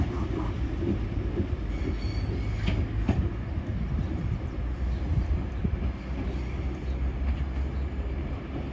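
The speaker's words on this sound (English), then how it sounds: "train now going past is a 197 going to Manchester Oxford Road" Class 197 train passing through Earlestown station on the way to Manchester Oxford Road, a continuous close rumble of wheels on rails with faint squeal and clatter, steady throughout with no talking.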